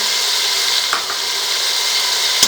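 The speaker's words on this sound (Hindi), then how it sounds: "अब इसको हम 1 से 2 मिनट के लिए फ्राई कर लेंगे" Beef yakhni pulao base with finely chopped green chilies frying in a pot, a constant close sizzle broken by a few soft stirring knocks.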